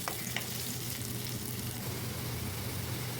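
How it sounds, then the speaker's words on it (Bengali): Onions fry in hot mustard oil with a steady sizzle and occasional stirring scrapes, a dense crackling hiss throughout. "এখন এর মধ্যে আমি কিছুটা পেঁয়াজও ভেজে নিচ্ছি"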